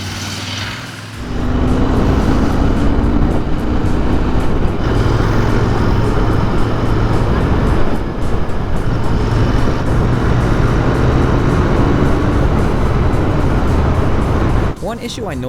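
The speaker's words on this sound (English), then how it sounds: "This morning we are riding my bike's sprightlier sibling, the Continental GT 650." Royal Enfield Continental GT 650 motorcycle riding on the road, a steady loud engine and wind roar with rising and falling pitch as it shifts, under continuous talk from the rider.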